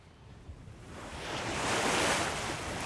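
Rough Aegean Sea waves surge and wash under the strong Meltem wind of the Cyclades, a broad roaring hiss that swells louder midway and stays heavy, with wind buffeting the microphone.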